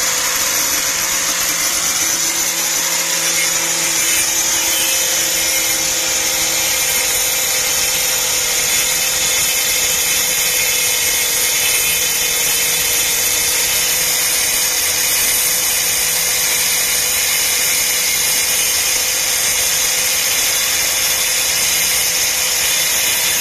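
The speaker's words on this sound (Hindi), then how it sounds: "अभी इस 5 इंची का जो वुड कटिंग ब्लेड है, ब्लेड हम लोग यूज़ करेंगे, तो इस ग्राइंडर मशीन में हमने ऑलरेडी सेट कर दिया है" A grinder fitted with a 5-inch wood cutting blade runs at a loud, steady whine that holds without pause, with a faint low hum underneath and no talk.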